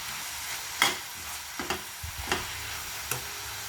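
Ginger garlic paste frying with softened onions in a pan for an onion and raw mango curry, a soft steady sizzle broken by a few sharp stirring clacks of a spoon against the pan.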